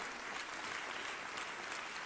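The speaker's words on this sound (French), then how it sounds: "qu'on peut applaudir vraiment" Sustained applause from a conference audience at a regional general assembly in Brittany, a dense, even wash of clapping filling the whole stretch without pause.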